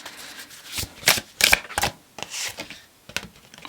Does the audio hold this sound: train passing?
no